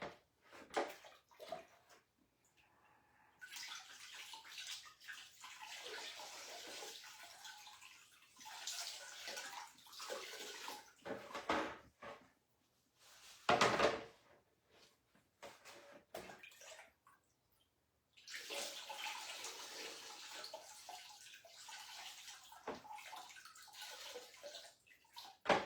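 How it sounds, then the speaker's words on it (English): Running water rinsing a freshly marbled item under a tap, splashing and gurgling in uneven bursts with quiet gaps in between, close by and unaccompanied by speech. "Let me rinse it."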